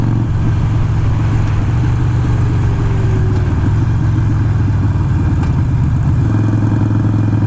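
A Harley-Davidson Iron 883 with a Vance & Hines exhaust runs close and loud, holding a steady RPM with a deep, lumpy burble and occasional uneven hiccups, alone with no talk.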